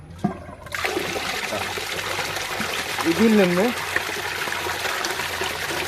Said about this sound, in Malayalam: ഇപ്പം നമ്മൾ ചാമ്പർ ഫിൽട്രേഷൻ ഓൺ ചെയ്യുകയാണ് ചെയ്യുന്നത്